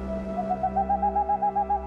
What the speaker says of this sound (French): Chouettes de Tegmalm